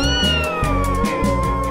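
A kitten meows in one long, drawn-out, loud and close cry, with a soft backing beat pulsing underneath.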